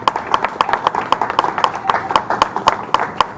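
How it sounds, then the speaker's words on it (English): Rhythmic clapping from an audience honoring a city coach at a recognition event, steady, evenly spaced claps in unison, loud and near, with a faint murmur of voices beneath. "let's just give another round of applause for my coach, your coach, the city's coach, Willie B Criss."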